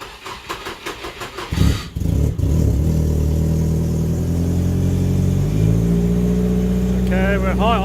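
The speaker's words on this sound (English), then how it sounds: "we're high idling, but that's the quickest this car's ever started" A Nissan Silvia S13 engine cranks in rapid rhythmic pulses, catches after a couple of seconds, then settles into a loud, steady high idle nearby, with a voice starting briefly near the end.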